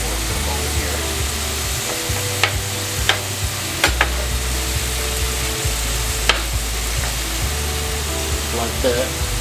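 Cheesesteak meat for sliders sizzles steadily on a hot griddle, a constant frying hiss with sharp scrapes and clacks as the pieces are flipped.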